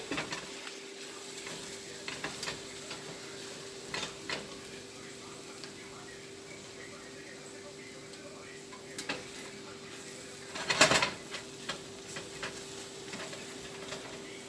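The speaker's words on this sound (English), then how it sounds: "Just fry your egg up." Eggs for chicken fried rice sizzle quietly in a pan, a soft steady fry broken by occasional utensil clicks and taps and one louder scrape against the pan.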